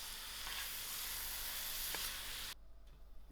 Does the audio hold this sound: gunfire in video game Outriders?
no